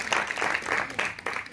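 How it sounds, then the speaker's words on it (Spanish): Audience at a business and finance congress gives a short burst of applause for a technician, a brief run of clapping in uneven pulses. "Un aplauso para el señor técnico"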